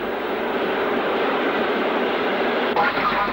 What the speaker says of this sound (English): Another Black 5 runs through on a freight towards Tisley.